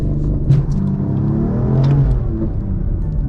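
BMW M4 launching hard with its rear tires spinning, a loud steady engine roar and rumble that swells slightly near the end, close and continuous with no talk.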